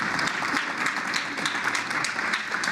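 A town hall audience at a village state-of-the-village address breaks into steady, moderately loud clapping that carries through the whole short stretch, with a few faint voices underneath.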